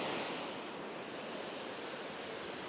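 Ocean waves washing onto the shore in a continuous broadband roar, steady and fairly loud throughout with no voices.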